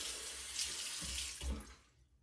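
Saliva, water and valve oil are shaken out of a trumpet's valve bottom caps during cleaning, a steady wet splashing and trickling like a running tap that fades out at the end.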